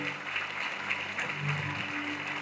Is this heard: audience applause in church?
yes